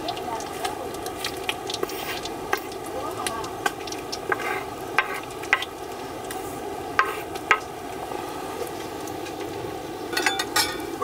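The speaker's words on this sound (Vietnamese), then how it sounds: "Cá chiên bên đây nó cũng vàng rồi nè," Fish frying in a pan, steady crackling sizzle with scattered pops and spits throughout, close and continuous.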